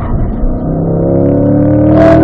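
A Corvette accelerates hard down the straight of a race track, its engine note climbing steadily in pitch as it revs, loud and close from inside the car.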